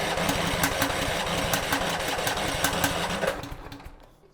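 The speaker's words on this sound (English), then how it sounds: "while I crank this engine over" Small engine cranked over at full choke and full throttle, a steady mechanical chugging with rapid regular pulses for about three seconds, then winding down and stopping.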